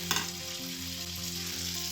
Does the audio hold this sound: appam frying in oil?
yes